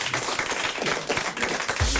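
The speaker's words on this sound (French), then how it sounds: "Monsieur Laurence, on vous applaudit," Studio audience applause on a French Europe 1 radio talk show, dense crackling clapping that stays steady and moderately loud for a couple of seconds, with no voices on top.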